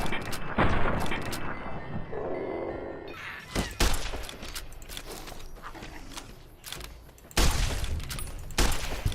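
Loud gunshots and booming blasts in Fallout: New Vegas, several sharp reports spread irregularly with rumbling impacts and clatter between them.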